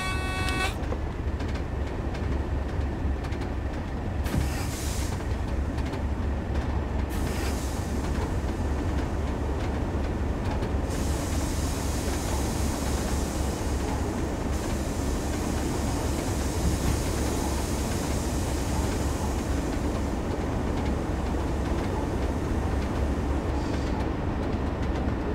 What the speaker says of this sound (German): Vorbeirauschen am Bahnhof,